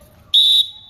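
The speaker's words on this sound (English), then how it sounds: "When you hear me blow the whistle and yell for rotation like so" A single short, piercing blast of a sports whistle blown by a coach to signal court rotation in a racquetball class, loud and close against a quiet background.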